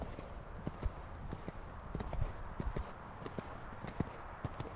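A horse canters in a show-jumping lesson, its hoofbeats a steady three-beat rhythm on the arena footing, moderately close, with faint background noise and no clear talk.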